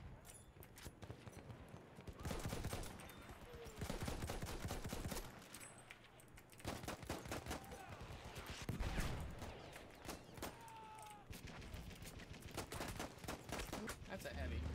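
Gunfire in the video game Battlefield 1, with rapid bursts and machine-gun fire in dense volleys amid battlefield noise, faint overall, while a player talks over it.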